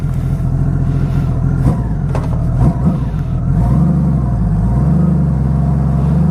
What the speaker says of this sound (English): this bike has one of the greatest sounds. Listen to this.